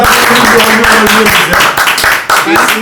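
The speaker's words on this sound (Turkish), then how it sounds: "Alkışlıyoruz." Rapid, scattered clapping from a few hands in a laboratory, with a voice talking over it throughout.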